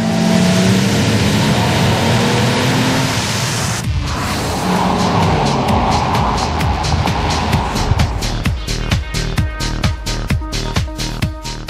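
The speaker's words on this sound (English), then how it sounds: "we can open her up and see how the engine roars" A Ford Falcon FG with its engine opened up, roaring loudly and continuously at speed, with a brief dip in the middle before the steady rumble returns, no talk over it.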